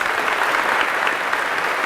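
A church congregation applauding the reading of the word of God at Mass, a steady, full wash of many hands clapping together with no voices on top.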